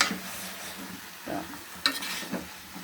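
Bori lentil dumplings frying and burning in a pan: a steady close sizzle with a few stirring scrapes and clinks over about three seconds, with no voices.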